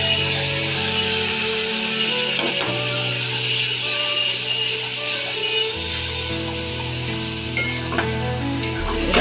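A tomato, ginger and green chili paste hits a hot pan for dum aloo, giving a loud, steady sizzle with stirring scrapes and occasional utensil clinks against the pan.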